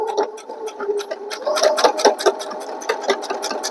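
Sewing machine back stitching a fabric rice bag, a close, rapid mechanical chatter of needle strokes in short uneven bursts, with no talk.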